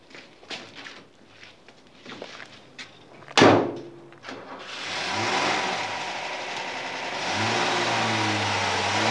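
A car door slams shut with a sharp bang, then a mid-sized car engine starts and pulls away, its steady motor noise building and holding as the vehicle drives off, in a scene from the German crime series Der Kommissar.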